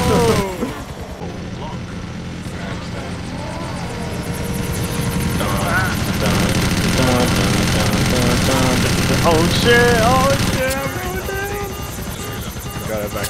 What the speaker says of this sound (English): Slowly lower my helicopter.